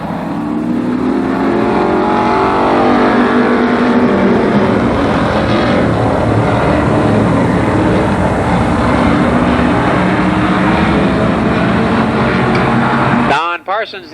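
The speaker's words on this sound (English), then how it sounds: "Coming up next, the first street stock heat race." Street stock race cars at Columbus Motor Speedway in a 1991 heat race roar together, their engines droning and revving loudly under a commentator's voice, then cut off abruptly at the end.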